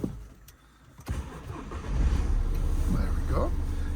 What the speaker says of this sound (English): I'll just start the engine up so I can show you how everything works